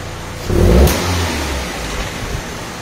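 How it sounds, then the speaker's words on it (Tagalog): A Mitsubishi Cedia engine gives one short, sharp rev that quickly drops back to a steady idle hum, loud and close with no voices. "Tsaka pag nirev mo po siya, wala na siyang yung follow-up na nagtataas ng minor."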